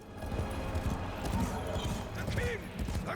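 Rhythmic hoof clip-clop of a horse mount galloping in Warframe, steady and close, with a brief whinny and voices talking over it.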